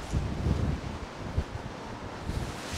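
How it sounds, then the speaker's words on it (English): Strong, gusty wind buffets the microphone at a harbour during a storm, a steady broadband roar with rising swells of louder gusts and no voices. "that wind is coming head on"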